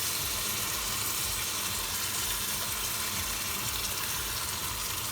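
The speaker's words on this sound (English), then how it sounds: "now I'm going to add my water" Steady rushing water pours continuously into a pan, a loud broad splashing stream with no pauses, close by.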